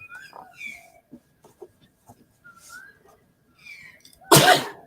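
A single sharp sneeze bursts out near the end, loud and close, after stretches of quiet conversational speech.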